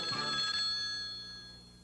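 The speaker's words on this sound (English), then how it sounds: "Pick up your phone and give them a ring." An old-fashioned telephone bell rings in a vintage television commercial, one short bright ring that decays over about two seconds, alone with no talk.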